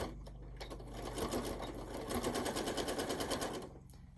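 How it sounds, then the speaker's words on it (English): A sewing machine runs in a fast, even rattling burst as it stitches quilt sashing to the backing, starting after a brief pause and stopping near the end, close and steady with no talking. "sewing the sashing to the backing of the next piece"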